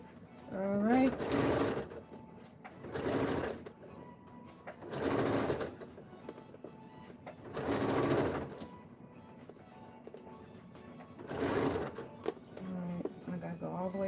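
A sewing machine stitching a jacket sews in four separate bursts of rapid mechanical whirring, each lasting about a second, with quieter pauses of handling noise between them, heard up close indoors.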